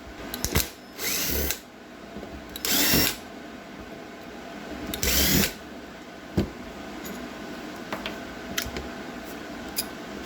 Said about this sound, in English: I'm going to pop these 4 screws off and take apart the pump.